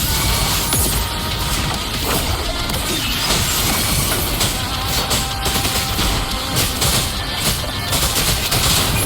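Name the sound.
mortar attack explosions in video game Wuthering Waves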